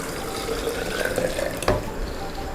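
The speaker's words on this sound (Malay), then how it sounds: "Okey, kita masukkan sedikit air. Masukkan air." Water pours into a blender with fish bones for Penang laksa broth, making a steady close splashing gush and ending in a sharp knock partway through.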